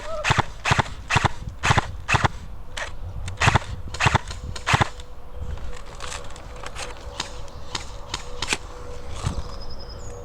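Nuprol Nomad airsoft gun firing at a zombie game site, rapid sharp snapping shots in quick bursts, then more spaced single shots, loud and close with outdoor background.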